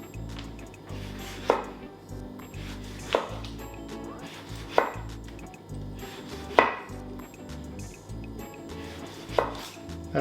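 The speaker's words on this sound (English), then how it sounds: "I'm just going to do a few thin slices." A knife cuts thin slices on a cutting board, about six distinct, evenly spaced thuds against a low background hum.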